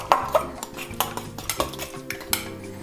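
A utensil whisks honey into a salad dressing in a bowl, a quick series of distinct clinks and scrapes against the dish at an uneven rhythm, close and clear with no voices.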